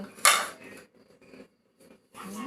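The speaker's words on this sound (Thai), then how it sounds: "พ่อเก็บจาน" Dishes and cutlery clatter close by in short, intermittent bursts, with a loud clink at the start and quieter scraping between.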